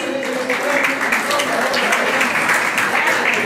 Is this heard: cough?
no